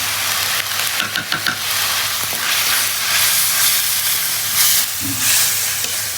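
Ground spices fry in a pan over an earthen clay stove, a steady loud sizzling hiss with occasional stirring clatter and brief bursts, close with no talking.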